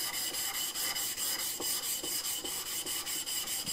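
A steel chisel is rubbed back and forth on a Shapton glass whetstone, giving a steady, close scraping rasp with a regular stroke rhythm.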